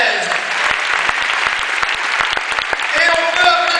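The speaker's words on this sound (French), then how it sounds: "On les applaudit très fort." Audience applause rings through the hall at a France–Japan karate event in Rouen, loud and close with crisp individual claps, swelling toward the end.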